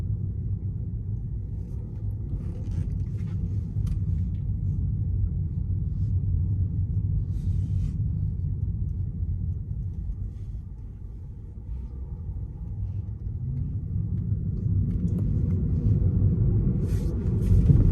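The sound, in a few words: Tesla car making a U-turn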